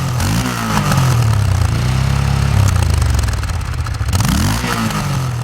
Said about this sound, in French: Les échappements de toute beauté ne font pas seulement de la figuration, ils donnent aussi de la voix et permettent au moteur de s'exprimer